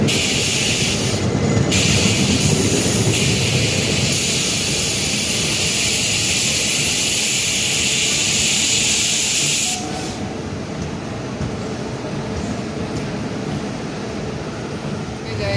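A passenger train arrives at a station, rumbling loudly and steadily alongside the platform, with a high hissing whine for the first ten seconds that then cuts off, leaving a lower rolling roar.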